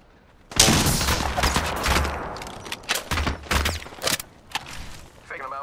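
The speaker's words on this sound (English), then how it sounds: "Being shot at." Apex Legends firefight with a crackling volley of close gunshots, then several sharper separated bursts of fire, and a brief voice near the end.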